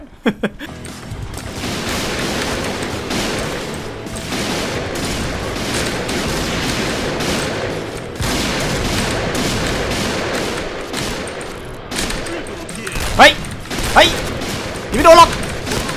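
Continuous gunfire rattles through a Point Blank match, dense automatic bursts filling the whole stretch with a few sharper single shots near the end, while people talk over it.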